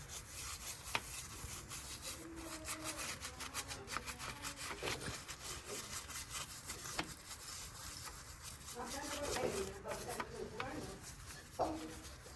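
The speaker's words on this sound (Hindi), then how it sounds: "आगे का वॉश करने के लिए हम लोग ये वाला ब्रश यूज़ करेंगे" A brush scrubs the chain of an NS 160 motorcycle during a home wash, making repeated close, bristly rubbing strokes in an uneven rhythm at moderate loudness.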